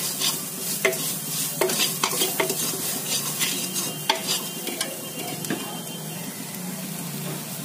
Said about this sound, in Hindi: इन सभी चीजों को अच्छे से मिक्स कर दूंगी।